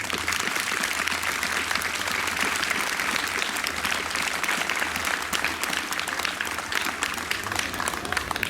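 Sustained applause from an outdoor audience at a New York State Police Special Operations Response Team demonstration, honouring fallen troopers: steady, crackling clapping from many hands, even and unbroken throughout.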